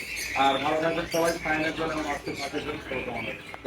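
Parrots chatter and squawk continuously inside a crowded bird shop, with people talking among the bird calls throughout.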